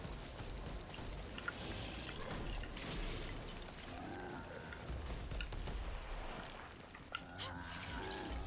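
Doom rain spell in a fantasy strategy game, a steady patter of falling drops with ratcheting, mechanical clicks and a few sharp ticks, fairly faint and continuous.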